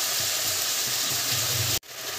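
Onion and tomato paste sizzling and spitting in hot oil in a pan, a loud continuous frying hiss with faint stirring, cut briefly near the end before the sizzle resumes.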